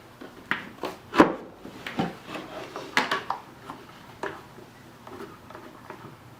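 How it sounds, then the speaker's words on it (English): A clamp is fitted onto a wooden two-frame beehive mating nuc box, giving scattered close knocks, wooden clatter and scraping rubs at an irregular pace. "Just going to grab a clamp"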